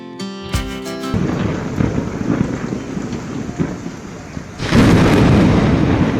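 A short burst of music gives way to steady, heavy monsoon rain on Janmashtami with a low rumble. The downpour grows suddenly louder near the end.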